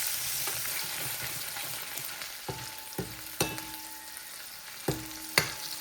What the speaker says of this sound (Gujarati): લસણ શેકાવા દઈએ બરાબર.